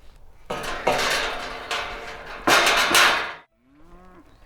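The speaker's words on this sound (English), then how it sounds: "I'm walking in the field of cows now, and they're big" Large cows in a countryside field moo loudly nearby, two long drawn-out calls with a short grunt between, then the sound drops away to quiet outdoor background.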